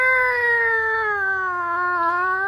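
A police siren sound effect that resembles cats meowing plays as one loud, sustained wailing tone, rich in harmonics, that slowly slides downward in pitch over a couple of seconds.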